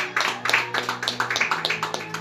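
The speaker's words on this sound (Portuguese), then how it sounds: "Você pode aplaudir o nome do Senhor nessa noite?" A church congregation claps together in a steady, rhythmic burst of applause, loud and close, with no one speaking over it.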